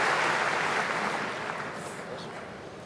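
An audience at a technology keynote applauds, a broad wash of clapping that fades gradually over about three seconds, with no speech over it.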